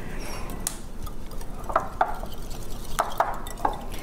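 Flaxseed eggs being mixed in a bowl for whole wheat carrot apple walnut muffins: soft, scattered clicks of a utensil against the bowl over a quiet kitchen background, with no talking.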